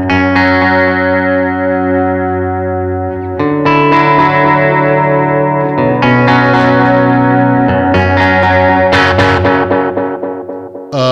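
Guitar through a Belle Epoch Deluxe echo pedal patch with medium modulation: sustained, wavering notes and chords with trailing repeats, loud and alone with no talking.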